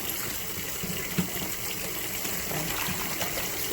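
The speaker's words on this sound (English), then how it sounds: "Putting this in some hot water." Hot water gushing and trickling into a bowl for shampooing crochet hair, a steady, close pouring wash with a brief splash partway through.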